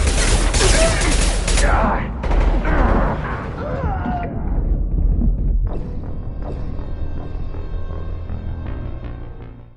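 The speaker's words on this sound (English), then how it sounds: "Taking heavy fire!" Heavy gunfire in the video game Mass Effect 2, loud dense volleys with booming impacts and mechanical clatter that ease into a lower rumble and ringing tones, with voices shouting over the battle.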